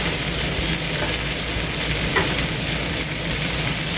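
BBQ chicken thighs cook on a Blackstone griddle, giving a dense, loud, continuous sizzle close up, with one faint scrape as a piece is flipped.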